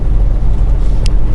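A truck engine idles with a loud, steady low rumble heard up close, unbroken for the whole moment, with no talking.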